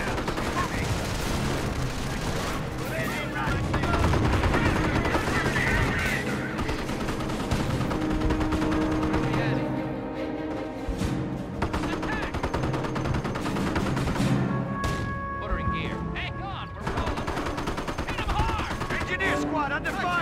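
Sustained gunfire bursts and rifle volleys from a World War II battle in the Company of Heroes strategy game, Montebourg mission, rattling loudly through a dense mix of game audio with voices speaking over it.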